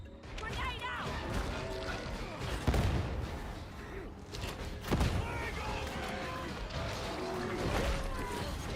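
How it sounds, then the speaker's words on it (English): Grenade blast and scattered gunfire in the video game Darktide, with two heavy booms amid continuous chaotic combat noise and clatter, mixed under busy game sound. "Grenade out!"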